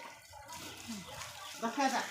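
Water splashes and pours over a cow as she is bathed at home, with people talking over the running water throughout.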